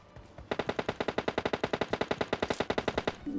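A rapid automatic burst of about thirty evenly spaced gunshots from PUBG Lite gameplay, loud and sharp and firing for about three seconds without pause.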